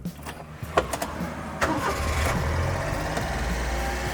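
A 1992 Honda Acty micro bus engine cranks with a few quick clicks and turns over, then catches and settles into a steady, moderately loud idle close by.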